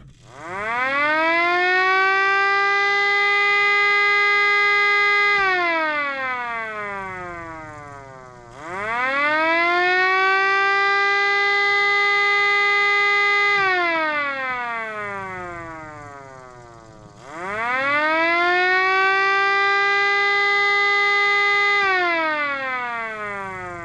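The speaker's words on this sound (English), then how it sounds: "what a pretty siren" A mechanical STL-10 civil defense siren winds up to a loud sustained wail, then drops and restarts, repeating three long cycles.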